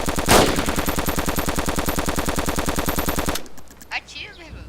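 Rapid automatic gunfire from the video game DayZ, a loud sustained burst of evenly spaced shots lasting about three seconds, then abrupt quiet with faint voices and game noises.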